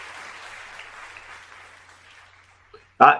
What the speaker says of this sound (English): I wanted a longer applause,